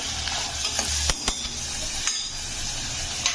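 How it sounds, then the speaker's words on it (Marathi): Finely chopped tomato tossed with onion in a hot pan for matki usal: a steady sizzling hiss with a few sharp spatula clicks and scrapes against the pan, close and fairly loud, with no voices. "यामध्ये आपल्याला घालायचा आहे बारीक चिरलेला टोमॅटो तो सुद्धा आपल्याला थोडासा परतायचं आहे"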